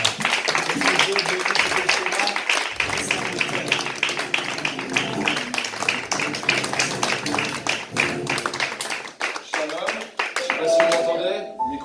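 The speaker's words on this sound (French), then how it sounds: "sous vos acclamations, nous allons accueillir l'homme de Dieu, le pasteur Vidal." A church congregation claps and acclaims as a pastor is welcomed to the front at a service, a steady wash of clapping and raised voices that carries on for about twelve seconds.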